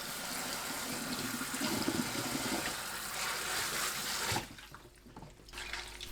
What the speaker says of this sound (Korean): 바로 체에 거르고 찬물에 헹궈주세요.